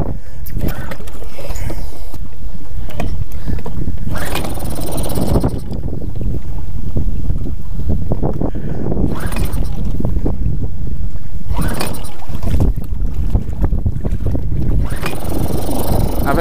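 Toyama outboard motor on a fishing kayak sputtering and bogging as it floods, engine drone rising and dipping unevenly with wind buffeting the microphone throughout, close and loud.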